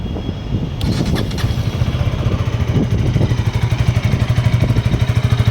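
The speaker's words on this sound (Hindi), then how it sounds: "अभी हम इस बाइक का एग्जॉस्ट नोट सुनते हैं।" A 2025 KTM Duke 160 motorcycle fires up and settles into a steady, loud, close exhaust thrum with a rapid even pulse, with no talking.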